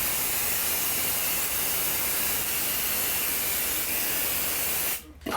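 Loud, steady hiss of a spray gun applying bathtub refinishing coating, close and continuous for about five seconds before cutting off abruptly.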